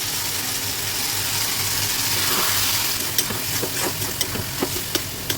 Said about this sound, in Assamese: এতিয়া মছলাখিনি দিয়াৰ পিছত ভালদৰে ভাজিব লাগিব।